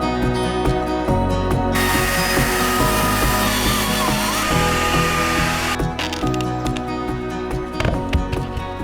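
A Stihl MSA 220 T battery chainsaw cuts while felling a tree outdoors, a loud, steady electric whine that rises into a harsher cutting roar for several seconds and then drops back, close to the listener with no talk.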